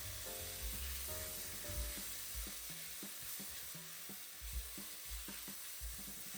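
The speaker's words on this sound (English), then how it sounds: "Stir the chutney thoroughly along with the onions." Green chutney being stirred with onions in a hot pan for chicken pulao: a steady close sizzle of frying with repeated scraping and stirring strokes throughout, no voices.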